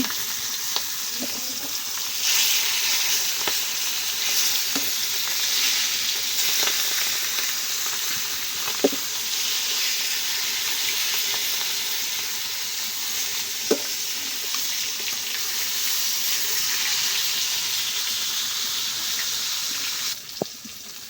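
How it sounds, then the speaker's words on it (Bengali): Fish frying in oil in a pan in a village kitchen, a loud continuous sizzle with occasional clicks and spatters, no speech, steady for about twenty seconds. "আমার মাছ ভাজা এক পিঠ হয়ে গেছে, এখন আমি উল্টে নেব।"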